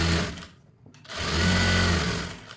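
A sewing machine stitching a folded half-inch blouse hem gives a loud motor whir in two bursts, separated by a short pause, close and alone.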